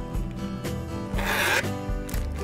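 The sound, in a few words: curling ribbon with scissors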